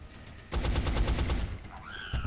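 A soldier's weapon in the video game XCOM: Enemy Unknown fires a rapid burst of about a dozen evenly spaced shots, loud and close, followed by a brief rising electronic tone.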